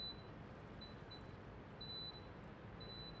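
Faint, high electronic beeps from a finished dishwasher repeat at uneven intervals over a low background hum, a few short and two held longer.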